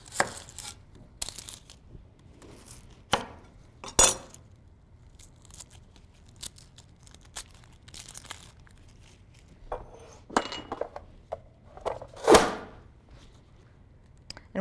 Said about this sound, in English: I'll go ahead and chop up this onion.